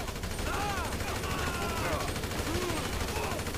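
Rapid bursts of GTA 5 gunfire crackle in a dense, continuous barrage, with faint tonal game effects sweeping over the noisy background.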